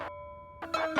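A short bell-like ding-dong chime used as a notification sound effect, two bright tonal strikes with a gap between, alone and fairly clear with no talking.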